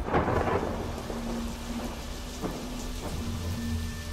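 Steady rain pattering on surfaces with a low rumble of thunder, a close, continuous storm ambience with no voices.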